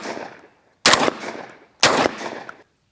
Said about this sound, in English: Very light recoil impulse. Very soft shooting gun.